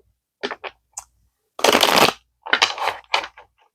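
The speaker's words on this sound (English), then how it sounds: "I was shuffling my cards to get a message as to what sign I should read for this time" Tarot cards shuffled by hand in several quick bursts: two short riffles, a brief flick, a long dense rustling shuffle, then a run of crisp shorter riffles, close and clear with no talking.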